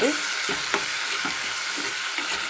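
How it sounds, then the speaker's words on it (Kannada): Medium-sized tomatoes sizzle and fry in a pan with dried shrimp, a steady hiss broken by scraping stirs every half second or so, close up and continuous. "ಇವಾಗ ನಾವು ಟೊಮೆಟೊ ಹಾಕಿದ್ಮೇಲೆ ಇದರೊಟ್ಟಿಗೆ ಚೆನ್ನಾಗಿ ನಾವು ಬಾಡಿಸ್ಕೊಳ್ಳೋಣ"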